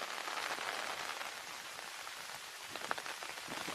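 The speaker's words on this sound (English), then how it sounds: "it's heavy rain now" Heavy rain pours steadily in a dense hiss, with occasional sharper drops spattering on a surface.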